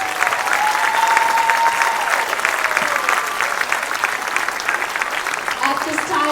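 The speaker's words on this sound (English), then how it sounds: "Another round of applause for our student performers and our music department." Sustained applause from a school concert audience for fourth-grade student performers at a winter concert, dense steady clapping filling the hall with a few cheers and voices mixed in throughout.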